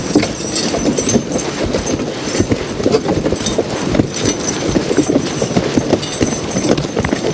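Draft horses' hooves clop in an uneven rhythm as the team drags a huge log uphill through muddy Adirondack forest, close and loud, with chains and harness rattling along.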